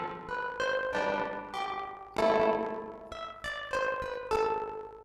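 A string synth passes through the Sonicware Texture Lab granular processor in effects mode, giving a smeared, stuttering series of chord bursts with blurred attacks and shimmering decays, quiet and unaccompanied by speech.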